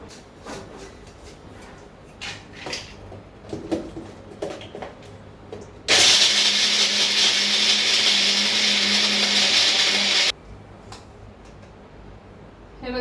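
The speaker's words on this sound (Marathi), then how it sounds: "मी याच्यामध्ये थोडे थोडे ड्रायफ्रुट्स टाकून ते मिक्सरला लावून घेणार आहे" A mixer grinder jar grinds dry fruits such as cashews and almonds in a loud, steady whir lasting about four seconds. It starts and stops abruptly, between quieter kitchen handling sounds.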